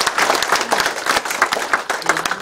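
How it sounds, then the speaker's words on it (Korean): A crowd at a Korean city mayor's public meeting breaks into applause, a dense burst of clapping that carries through the whole short stretch, fairly loud and close. "큰 박수로 좀 축하 인사입니다"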